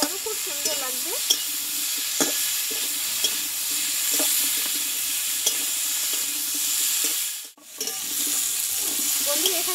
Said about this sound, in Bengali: আদার একটা তো গন্ধ আছে, কাঁচা গন্ধ যদি চলে যায় সেজন্য হাতের সময় নিয়ে আরও কিছুক্ষণভাবে আমি ভালোভাবে কষিয়ে নেব